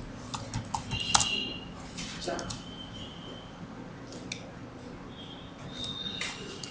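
Someone types on a computer keyboard to change a router hostname, producing irregular clusters of close, light key clicks under intermittent talking.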